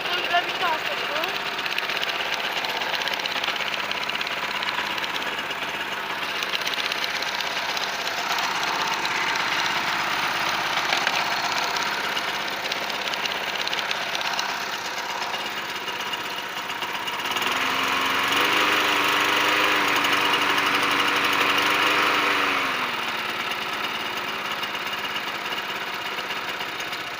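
A Notac lawn mower engine runs steadily close by, its even drone swelling louder for several seconds midway with a rising tonal whine before settling back to idle.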